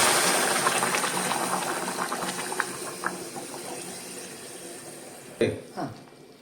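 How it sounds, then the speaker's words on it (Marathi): Boiling water pours steadily into a pot with a broad, hissing rush, fading slightly, followed by a couple of dull clunks at the end. "उकळत पाणी आता आपण याच्यात ओतणार होतो"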